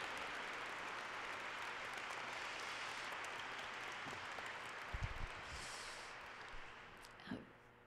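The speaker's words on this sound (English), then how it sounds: "Perhaps another round of applause for the Congresswoman as she continues." Faint, steady applause from an audience at a lecture event for a Congresswoman, a distant hiss of many hands clapping with a few soft bumps and a breath near the end.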